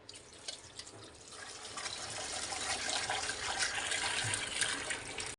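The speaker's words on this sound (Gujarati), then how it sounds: "આ બટેકાને હવે આપણે પાણી વડે ધોઈ લઈશું" Potatoes being washed under running tap water: a continuous broadband rushing and splashing that grows slightly louder and holds steady for several seconds, close by and without speech.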